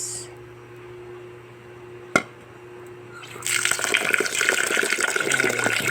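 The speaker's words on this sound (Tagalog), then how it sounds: "Kailangan po guys malinis yung bigas ng ating isasaing, kaya hugasan po natin ng mabuti" Rice being washed by hand in water, with a quiet low hum and a sharp knock early on, then a steady stream of running, splashing water for the last few seconds, close and fairly loud.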